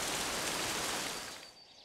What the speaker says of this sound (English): It's raining, and my puddle is getting bigger.